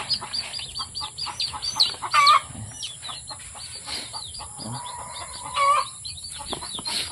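A hen clucks among her chicks in a farmyard, with repeated nearby clucks, sharp peeps from the chicks and a few louder calls over a constant hiss, with no speech.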